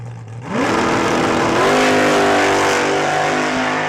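A drag race car at Saskatchewan International Raceway idles with a low rumble, then revs hard and accelerates away, its engine note climbing loudly and steadily for several seconds.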